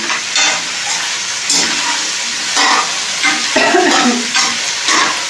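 Onions frying in oil in a pan for an okra curry crackle and sizzle loudly, with repeated stirring strokes scraping through the steady hiss, close up and without speech.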